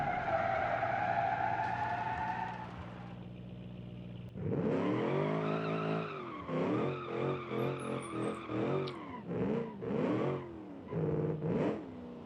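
A late-1960s muscle car in BeamNG.Drive revs deep and hard, its engine note climbing and dropping through a series of pulsing bursts mixed with tire skids, after a quieter steady tone at the start.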